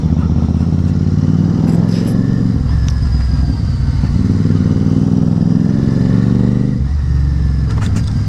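Motorcycle engine revving and exhaust crackling on a road near a police post, loud and close, with rising and falling throttle and sharp pops and clatter in bursts, no voices.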